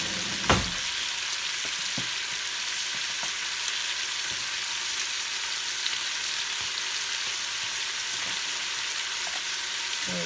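Margarine sizzles in a pan while butter chicken fries, a steady close hiss with faint stirring clicks and one sharp knock near the start, no voices.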